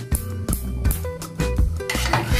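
Batter for Indonesian fried snacks being stirred in a pan on the stove, with repeated utensil scrapes and clinks against the metal at a steady rhythm over a faint cooking hiss, close and fairly loud.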